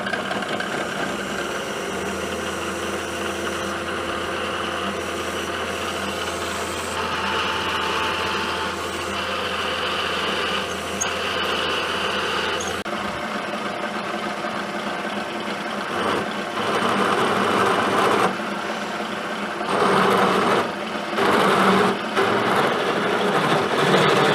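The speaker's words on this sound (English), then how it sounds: "I'm going to go ahead and get that 1-inch hole drilled." A drill bores a 1-inch hole in metal, making a steady droning machine whine with grinding texture that shifts and grows rougher partway through, continuous and close throughout.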